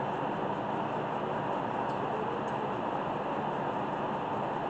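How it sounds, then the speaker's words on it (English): A steady, even whir of an electric fan runs throughout, broadband and constant, with no other sounds standing out. "I also apologize about the fan and noise in the background"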